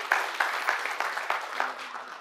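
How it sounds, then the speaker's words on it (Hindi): Applause from an audience at a community gathering of the Bihar Vikas Parishad in Surat, honoring Dablu Singh; a brief, fairly faint burst of clapping with uneven, pulsing claps. "डब्लू सिंह जी के लिए जोरदार तालियां होना चाहिए।"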